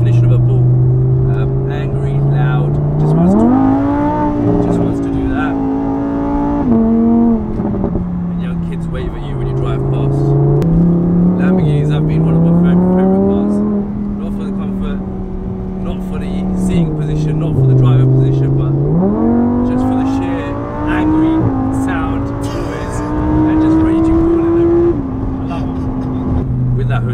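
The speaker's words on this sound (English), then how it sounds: "the exhaust kind of starts to crack and pop." A Lamborghini Huracan Spyder's loud exhaust rises and falls through several hard revs with a rough, crackling edge, close and steady throughout, with someone talking over it.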